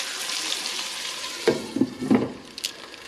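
Thick bacon end pieces frying in a pan, giving a steady close sizzle with a few sharper pops and crackles toward the end.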